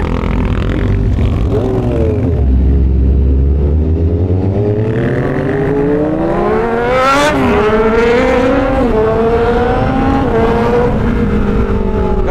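An old Kawasaki Z1000 inline-four motorcycle with dual exhaust revs loudly and close by, its engine pitch sweeping up and down through several throttle blips with a sharp, screaming tone.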